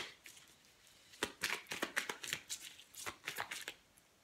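Tarot cards shuffled and drawn by hand, a soft run of quick papery flicks and riffles, close and fairly quiet, with no talking.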